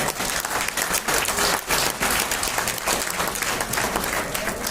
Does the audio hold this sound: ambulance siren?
no